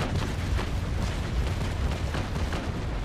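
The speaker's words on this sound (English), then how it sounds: "I'm gonna fire the starboard battery." Ship cannon broadside in Naval Action rolling out as a continuous rumbling barrage of heavy booms, dense and loud with no pause.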